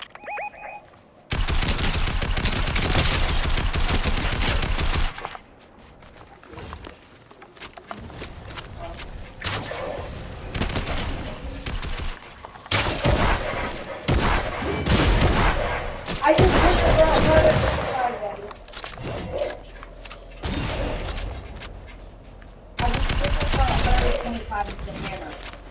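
Rapid automatic gunfire rings out in Fortnite, with a dense sustained burst at the start, scattered shots in the middle and further heavy volleys later, loud and close.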